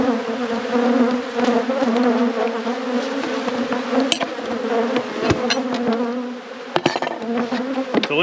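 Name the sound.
honey bees buzzing around hive during robbing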